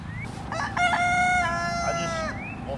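A rooster crows loudly nearby in a long, wavering call, with hens clucking low underneath, in a farmyard.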